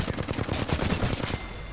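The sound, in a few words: gunshots in the video game Predator: Hunting Grounds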